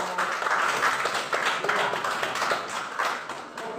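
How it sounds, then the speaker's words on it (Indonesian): Schoolchildren clapping together in an elementary classroom, a fairly loud burst of quick, somewhat rhythmic hand claps that carries on steadily for a few seconds with no speech. "Kita berikan tepuk tangan"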